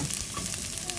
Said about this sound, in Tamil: இதில் வந்து நான் செத்த மிளகாயும் போட்டு லீக்ஸும் போட்டு தாளிக்கிறேன்